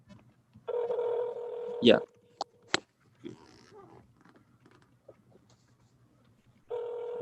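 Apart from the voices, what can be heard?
telephone call ringing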